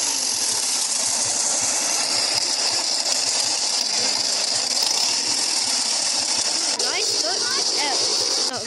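A small video game scooter engine drones steadily with a buzzing, hissy tone, joined near the end by brief high chirpy electronic sounds.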